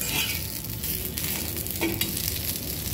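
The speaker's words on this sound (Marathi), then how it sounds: "आता कोथिंबीर पण थोडा भाजून घेऊया" Fresh coriander leaves roasting in a hot pan for a village-style ridge gourd thecha, a steady close sizzle with soft stirring scrapes and no voices.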